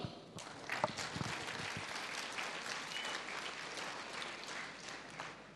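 Steady applause from a crowd fills the whole stretch, a dense patter of many hands clapping without pause.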